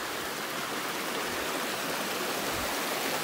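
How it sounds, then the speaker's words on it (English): A full stream along the Appalachian Trail near Damascus rushes steadily, a dense, even wash of flowing water that holds constant throughout with no voices. "The water flows"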